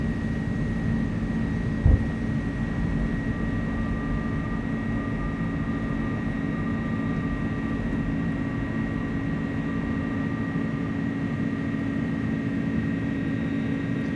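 An Airbus A300 freighter in Microsoft Flight Simulator 2024 climbs out after takeoff, a steady engine drone with constant tonal whine throughout, one brief thump early on, no talking.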